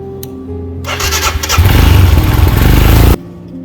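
A Royal Enfield Himalayan BS6 motorcycle idles, then the engine revs up loudly and close by for about two seconds before cutting off abruptly.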